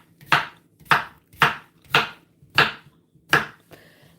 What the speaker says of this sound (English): All I need to do is chop.